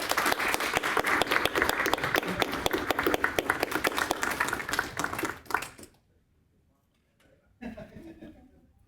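A meeting audience breaks into a sustained round of applause, dense and steady for several seconds before it fades out, followed by a short burst of laughter and murmuring.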